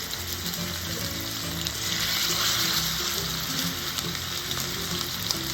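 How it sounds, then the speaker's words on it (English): Halved steaks searing in very hot grease, a strong continuous sizzle with crackling spatters and a slight swell in the middle; no talking. "what I'm gonna do is sear these steaks"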